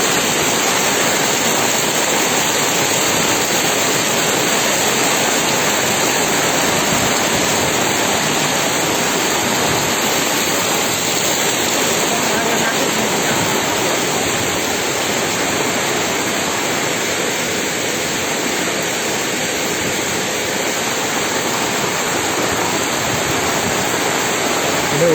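Heavy rain pouring during a village flood in Biyawak, Jatitujuh, a steady dense wash of noise lasting throughout, loud and unbroken with no talk.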